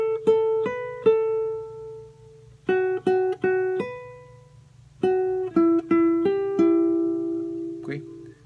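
A charango plucks the second fragment of a song, in short bright phrases of picked notes, some repeated quickly, with pauses between groups and ringing decays over a low hum.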